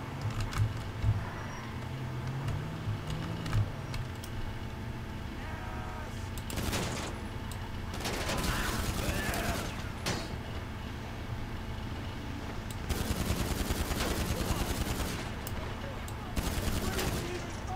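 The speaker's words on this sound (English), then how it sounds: "I'm shooting their tires out" Gunfire in GTA 5 Online aimed at car tires, several rapid bursts of automatic shots spaced apart over steady traffic and game sounds, with a voice talking at times.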